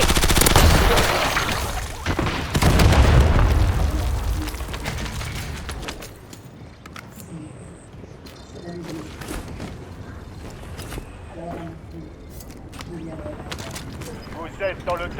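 Video game gunfire, with dense loud bursts of automatic fire over the first few seconds, then scattered sharper shots and clicks amid game noise, with voices talking throughout.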